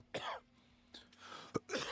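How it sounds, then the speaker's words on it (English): Coughing from a single person, several distinct harsh bursts spread across a couple of seconds at close range, with a low steady hum underneath and no talking. "I'm sorry about the cough"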